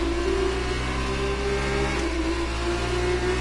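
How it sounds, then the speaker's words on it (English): A race car engine in a racing video game holds a steady, loud, buzzing drone as the throttle is pressed, with a continuous tone and no voices over it. "I'm kind of just stepping on the throttle so the car wants to get kicked out a little bit."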